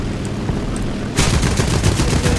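Wing cannons of an A7M1 (NK9H) aircraft in War Thunder open up mid-dogfight, a loud sudden rapid-fire burst cutting in over steady engine drone and continuing as a dense hammering rattle.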